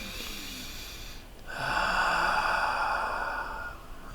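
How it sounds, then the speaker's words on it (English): During a yoga session, a person takes a long, heavy breath through a partly closed throat, a loud, rushing, raspy exhale that swells and holds for a couple of seconds before fading. "let's make some noisy breaths while you're in this. So close your airflow just a little bit to breathe heavier."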